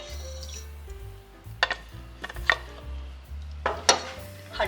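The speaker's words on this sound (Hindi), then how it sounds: "हड्डी के अंदर से मैंने गूदा निकाल लिया है" Cooked beef bones for beef nulli nehari knock and scrape against a plate or pot as marrow is dug out with a utensil, giving a few sharp clinks and scraping bursts over a low steady background hum.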